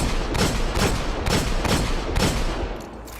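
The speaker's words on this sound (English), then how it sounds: "It takes 8 seconds to empty your clip and reload" Word of Crota hand cannon from the Destiny raid Crota's End firing repeatedly in game, a rapid, evenly spaced run of loud cracking shots with no pauses, tailing off slightly at the end.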